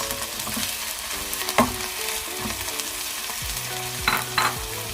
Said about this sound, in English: after sauteing the onions for 2 minutes, I am now going to add in the tuna. Break it.